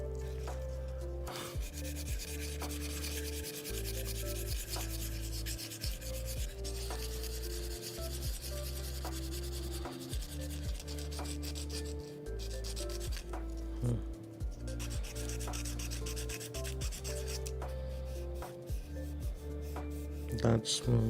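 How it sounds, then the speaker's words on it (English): Continuous close-up rubbing and rasping of sandpaper being hand-sanded against a hard 3D-printed plastic surface, steady back-and-forth strokes under faint background music. "hope you've enjoyed the sanding ASMR."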